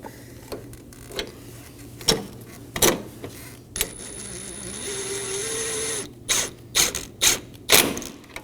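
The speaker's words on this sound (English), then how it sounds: "Now thread on and snug down your 4 10mm fasteners." A ratchet snugs down 10mm fasteners on the cooling fan assembly of a 2020 or later Toyota Corolla, with bursts of close, rapid clicking and a brief steady whir in the middle.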